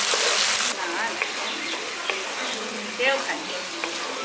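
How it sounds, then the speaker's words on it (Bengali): Spice paste frying in a pan for a brinjal curry with mustard and poppy seed, a steady close sizzle after a louder initial hiss, with scraping stirs. "মশলাটাকে আমি একটু কষিয়ে নিচ্ছি,"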